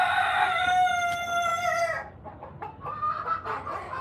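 Chickens that survived a wildfire cluck, and a rooster crows for about two seconds, followed by a run of scattered clucks against steady outdoor background noise.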